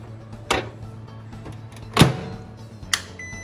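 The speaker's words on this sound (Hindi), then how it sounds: "माइक्रोवेव में रखूँगा मैं इसको।" A microwave oven being used to heat coffee: three sharp, separate clunks, like the door and buttons, land at even gaps over a faint low hum, close and fairly quiet.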